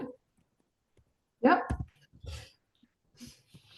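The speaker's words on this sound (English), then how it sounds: "sorry, that was my dog." A dog barks sharply a couple of times and whimpers in short bursts, close by, with a brief spoken word between.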